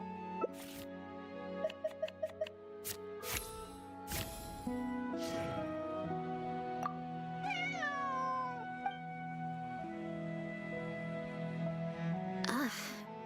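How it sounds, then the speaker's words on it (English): A cat meows repeatedly in the Genshin Impact video game: short, near, rising and falling meows over soft background music, with spoken voices and a few brief clicks in between. "Meow meow."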